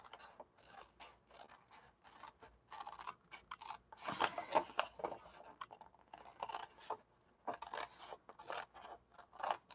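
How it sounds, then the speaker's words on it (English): Scissors snipping around the outside scallop of a paper project, a run of quiet irregular crisp cuts and rustles, loudest in a cluster midway, with no talking. "I'm going to cut the outside scallop off."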